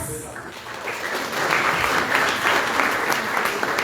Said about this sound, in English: Please continue your claps.